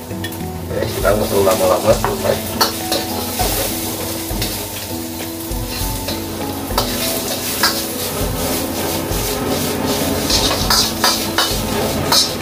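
Shrimp frying in an oiled pan for restaurant-style kwetiau, a steady loud sizzle with repeated scraping stirs and occasional clinks of utensil on metal, one brief spoken remark over it.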